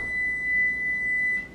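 A kitchen timer set for fifteen minutes beeps as it runs out, a steady, clear electronic tone that holds for over a second over low room hum and then cuts off.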